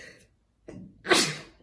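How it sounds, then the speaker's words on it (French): A single loud sneeze from a woman, preceded by a brief sharp intake of breath, close to the microphone in an otherwise quiet room. "Pardon, je vais éternuer"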